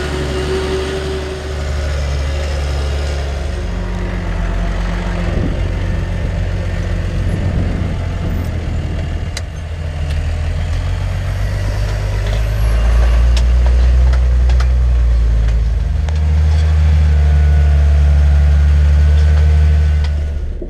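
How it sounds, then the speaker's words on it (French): A large tractor pulls a chisel plough through farm fields, a deep steady diesel rumble that swells louder partway through, with faint mechanical rattles and no voices. "je continue à préparer les terres avec le chisel et le gros tracteur"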